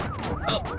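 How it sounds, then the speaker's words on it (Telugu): A brief wailing siren sweeps up and down in pitch, fairly faint, over a rumbling background. "ఏంటి ఆ సౌండ్ సైరన్ సౌండ్ అండి"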